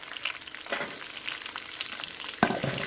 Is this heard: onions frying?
yes